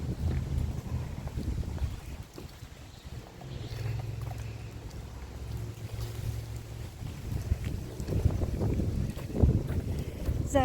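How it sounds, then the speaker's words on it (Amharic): Strong wind blows outdoors, a steady low roar and buffeting rumble against the microphone that swells and gusts throughout, with voices talking faintly at times. "ዛሬ በጣም ንፋስ አለ።"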